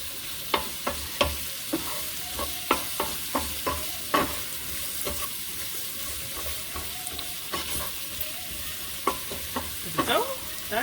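Okra frying with spices in a pan while being stirred, a steady sizzle under repeated scraping clatters of the utensil against the pan at an irregular rhythm.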